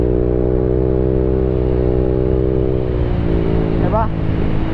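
Motorcycle with a T4S exhaust pipe revving steadily, a loud close droning engine note that holds constant and then drops and wavers briefly near the end.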